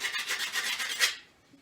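A protruding, burred router base screw is rubbed back and forth on sandpaper, making a steady gritty rasping for about a second before it stops.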